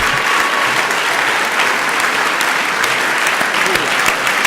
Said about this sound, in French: Je vous demande de faire un tonnerre d'applaudissements